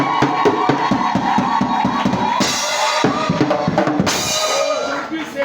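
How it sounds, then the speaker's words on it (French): A church congregation at a thanksgiving service in Ituri, DRC, claps and shouts for the Lord, loud rhythmic clapping under a swell of cheering voices that rises in bursts and stays strong throughout. "Acclamez encore pour le Seigneur."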